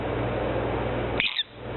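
A pet lovebird lets out one quick, sharp chirp near the end, after a stretch of steady background hiss.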